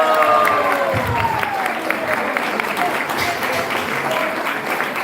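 Applause and crowd noise after a dance performance at a Gaur Purnima temple celebration, steady clapping under a voice speaking over it.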